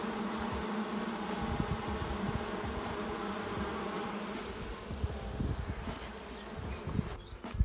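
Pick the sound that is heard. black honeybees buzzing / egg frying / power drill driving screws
black honeybees buzzing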